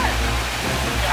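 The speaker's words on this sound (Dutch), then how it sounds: "Nog dichter bij de waterval." A waterfall roars in a steady, loud wash of rushing water close by, with no break across the short moment.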